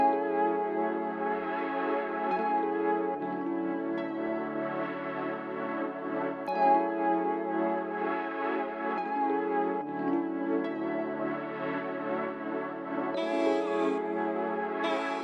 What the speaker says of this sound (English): Next up, I added the radio preset from EQ2, and they sound like this.